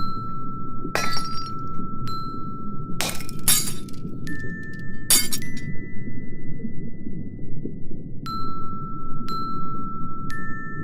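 Several sharp glassy strikes and clinks ring out at irregular moments, each leaving a sustained ringing tone, while the glass holds and never shatters; a steady low rumble runs underneath.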